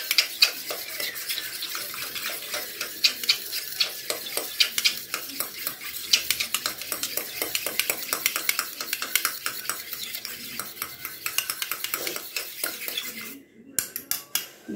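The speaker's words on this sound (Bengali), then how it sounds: "ভালো করে এটাকে আমি ফেটিয়ে নিয়েছি" A DIY hair pack mixture is whisked briskly in a bowl, making a fast, continuous run of rhythmic clicking and scraping strokes up close that stops abruptly near the end, followed by a few scattered taps.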